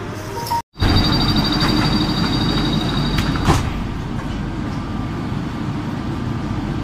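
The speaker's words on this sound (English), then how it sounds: "Skytrain." Interior of the Skytrain people mover at Singapore airport running between terminals, a steady loud rumble of the moving car with a brief dropout and a faint chime-like tone, no talk.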